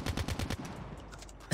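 Rapid automatic gunfire from a weapon in the mobile shooter game Call of Duty Mobile, a fast burst of loud repeated shots that tails off, followed by one more sharp blast at the end.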